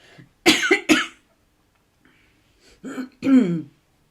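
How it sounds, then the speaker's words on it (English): Someone coughs and clears their throat after tea went down the wrong way, with two sharp, loud bursts followed by a pause and then two more harsh, throaty coughs close to the microphone. "I just had a little a little bit of a coughing fit. My tea went down the wrong way"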